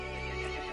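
A horse neighs in the Resident Evil Village video game, a short, fairly quiet whinny standing alone with no talk over it.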